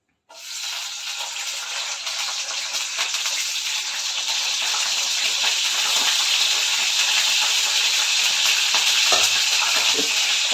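Green chilies hit hot oil for a homemade chicken curry, setting off a steady, bright sizzle that starts abruptly and holds at an even, close-up level throughout, with no voices.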